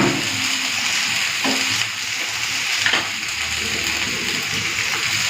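Vegetables hitting a pan of fried onions for a crab-leg curry, a loud continuous close sizzle with a few scraping stirs of a spoon and brief clinks, no talking.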